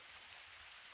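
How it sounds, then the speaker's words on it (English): Water pours steadily from a pipe spring along a trail, a soft, continuous hiss that sounds faint and fairly distant. "It's a pipe spring here."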